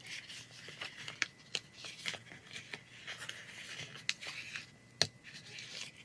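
Scissors cutting through card for a handmade December creative journal with a gingerbread house theme, a series of close, sharp snips and rustling paper handling in a quiet room.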